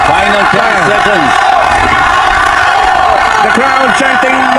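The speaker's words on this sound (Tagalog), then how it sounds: "the crowd chanting Magsayo" Boxing crowd at the Magsayo vs Cortes fight chanting the name Magsayo in loud, rhythmic repeated calls, a dense roaring arena throughout with chant bursts at the start and again near the end.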